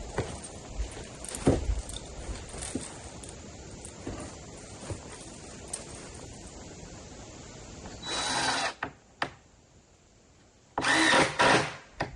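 A drill drives screws while doors are installed on a portable building: low workshop clatter and handling noises, then two loud, close bursts of drill whirring about a second long near the end.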